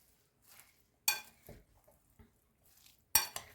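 A Chinese cabbage salad with meat tossed in a bowl: a few sharp clinks and scrapes of a utensil against the dish with soft rustling between, close and intermittent.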